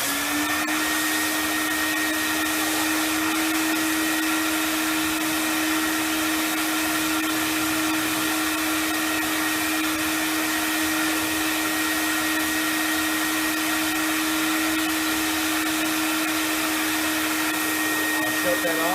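A carpet extractor vacuum runs with a constant, loud motor whine and airy roar that holds steady throughout, with no pauses or changes.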